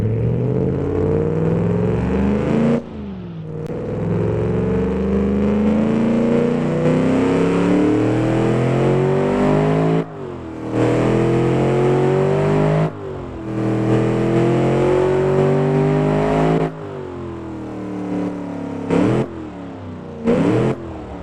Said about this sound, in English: let's hear this beautiful V8.